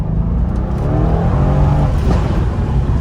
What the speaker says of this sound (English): so the valves open up as I put it into Sport Plus